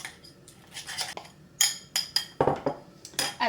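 A utensil scraping and clinking against a bowl while stirring a melted white chocolate mixture for glazing mini donuts, heard as close, irregular metallic taps and scrapes with brief pauses, no talking.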